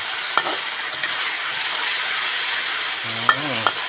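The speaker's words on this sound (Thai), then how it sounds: "ผัดเครื่องให้เข้ากันเลยนะครับ" Spice paste for a Thai stir-fry of pork belly and sator beans sizzles and scrapes in a hot pan, the steady frying hiss broken by a few sharp spatula knocks and a brief rising squeak near the end.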